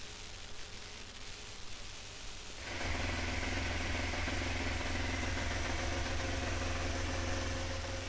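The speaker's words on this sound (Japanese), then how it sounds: "でちょっとねあのアイドリング高めで" A Honda NS250F motorcycle engine, freshly fitted with a restored carburetor, fires up partway through and settles into a steady, fairly loud high idle that continues to the end.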